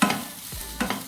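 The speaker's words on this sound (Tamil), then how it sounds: "இதை நம்ம நல்லா வதக்கி அரைக்க போகிறோம்." Large chunks of bottle gourd are stirred and sautéed in a hot pan, with a steady soft sizzle and a couple of clear scraping stirs across the short stretch.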